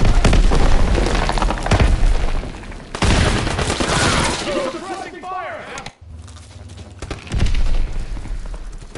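Rapid gunfire and heavy booms in the Call of Duty: WWII beta, loud bursts packed across the first half and again near the end, with a short lull in between.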